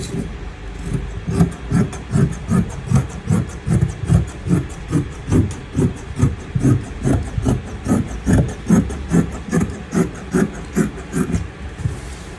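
Scissors cutting out dress fabric pieces, a quick rhythmic series of crisp snips and rustles, close and steady for the whole stretch.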